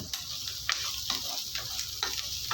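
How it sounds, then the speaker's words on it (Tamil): Onions and ginger sautéing in a pan for carrot chutney, a soft ongoing sizzle broken by quiet scraping and stirring clicks at irregular intervals, faint and close with no talk. "இப்போ வெங்காயம் வதங்கினோடனே ஒரு துண்டு இஞ்சியை நான் கட் பண்ணி வச்சுக்கேன் சேர்த்துக்கோங்க"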